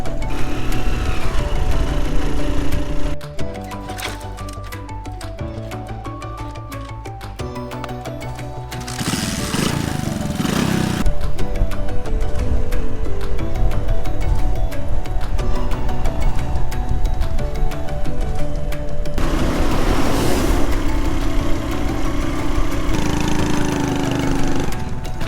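A motorbike engine on a mountain road trip in Laos labours up a hill in second gear, a loud, steady, buzzing drone with rough mechanical rattle and occasional wind buffeting, close throughout.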